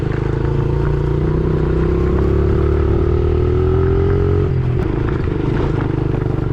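A small Honda XR70 dirt bike engine runs loud and close, its steady buzz holding and then faltering with a brief dip and stumble near the end as it begins to sputter, low on fuel.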